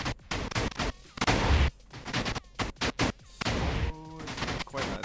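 Minecraft TNT cannon firing a pseudo shot with stacked sand: a rapid, loud burst of repeated explosive booms and crashes clustered close together, with brief gaps between volleys and a short tonal ringing near the end.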